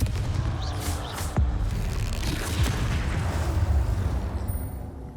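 Confringo fire spell in Hogwarts Legacy bursting with a heavy boom, followed by a rumbling low blast and crackling debris that sustains for several seconds.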